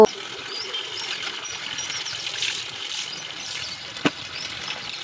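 Clothes are rinsed and wrung by hand in water on a rainy day, a continuous soft trickling and splashing close by with one brief sharper knock near the end.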